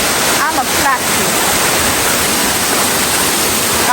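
Mckenzie Falls in Portland, Jamaica pours down in a loud, steady roar of falling water that stays constant and close throughout, with no breaks.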